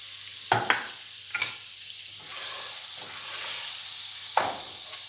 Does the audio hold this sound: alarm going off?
no